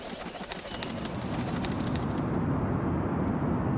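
Pigeons coo softly under a dense, steady rush of background noise that grows slightly louder, with a few faint bird calls near the start.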